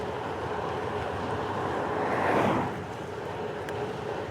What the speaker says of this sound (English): A serious headwind at the moment.